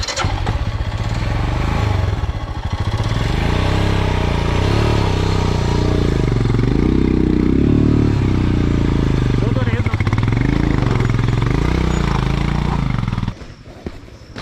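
A BMW 310 GS or Royal Enfield motorcycle engine starts and runs on an off-road trail, loud and close, revving up and down in waves before cutting off near the end, with people talking over it.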